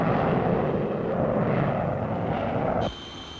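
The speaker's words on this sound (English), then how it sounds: "The Canberra is coming into squadron service. A sleek thing more beautiful to the eye than to the ear" An English Electric Canberra jet bomber of the RAF, 1950s, roars loudly and steadily overhead as a broad, continuous jet rumble, then cuts off abruptly near the end, leaving a thinner whine behind.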